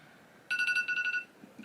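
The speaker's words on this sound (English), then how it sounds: "that's my alarm telling me to go work out" A phone alarm set as a workout reminder sounds a quick, bright series of electronic beeps, about eight pulses in under a second, loud and close with a faint voice afterward.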